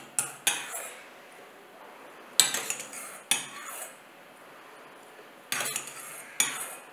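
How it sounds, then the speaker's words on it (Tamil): Spoon scraping and clinking against a bowl while curd is stirred into smoked brinjal for a thayir pachadi, in several separate bursts of stirring with short quiet gaps between, close and fairly loud, with no talking. "இப்போ இதுக்கு தேவையான அளவு தயிர் சேர்த்துட்டு கலந்து விடலாம்."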